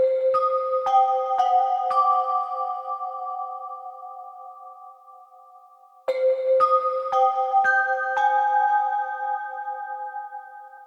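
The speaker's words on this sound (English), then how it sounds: "So that's the handpan, which is kind of the main lead for a lot of this song." Bright handpan notes ring out in two rising phrases, each tone struck cleanly and left to sustain, washed with chorus, delay and reverb so the melody lingers and slowly fades.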